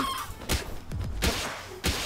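A Chikipi chicken creature in a video game clucks in three short, sharp bursts spaced evenly apart, close and clear over a faint game background.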